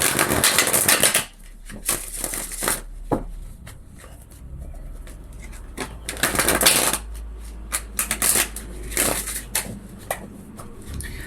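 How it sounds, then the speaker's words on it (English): Tarot cards are shuffled in several quick riffling bursts, close up, separated by short pauses and softer handling noises. "We'll give these a shuffle and start again."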